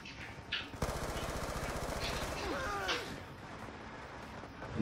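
Rapid gunfire in Call of Duty: Black Ops II, a dense, loud burst of automatic shots running for several seconds with a sharp blast near the start, and brief voice sounds mixed in.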